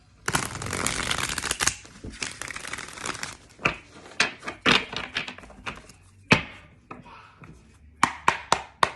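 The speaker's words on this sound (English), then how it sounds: "I'm gonna do one more shuffle." A deck of tarot cards is shuffled by hand, a dense riffling burst followed by scattered crisp snaps, taps and slides at close range, fading into short separate bursts toward the end.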